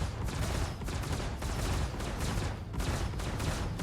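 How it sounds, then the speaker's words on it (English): Distortion cannons in a space combat video game firing at a ship's shield, a dense continuous barrage of loud rapid blasts with no gaps and no talking. "first I'm gonna shoot at my shield with only distortion cannons"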